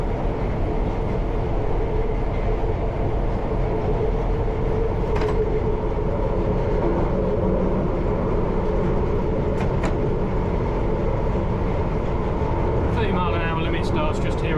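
A London Underground train running through a tunnel near Barons Court, a steady low rumble with rail noise and a few brief squeals, as someone talks over it throughout.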